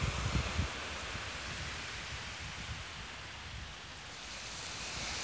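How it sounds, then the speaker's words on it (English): Steady wind rushes across the microphone at a beach near the ocean, a continuous broadband roar with a few low gusty buffets at the start, no one speaking. "It's a little bit windy today, but hopefully this will work out okay."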